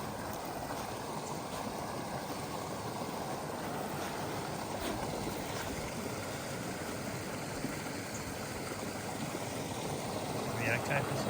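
Small waterfall at a creek water hole in the Victorian High Country near Bright and Yackandandah, a steady soft rushing and splashing of water heard at a distance, with faint voices now and then.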